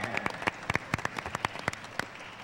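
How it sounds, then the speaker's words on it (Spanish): An audience of Star Wars fans at a September 2016 fan event gives a short scattered round of applause, distinct claps from a modest number of hands, fairly quiet. "Aplauso, por favor."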